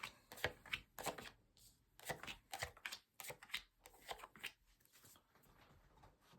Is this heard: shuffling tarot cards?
yes